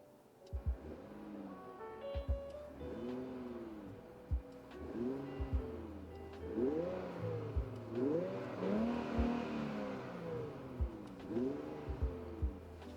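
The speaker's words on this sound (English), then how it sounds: "I'll give it a couple of revs, make sure everything's good" A nearby Infiniti Q50 engine revs repeatedly after a pedal upgrade, rising and falling in several swelling bursts over a low idle.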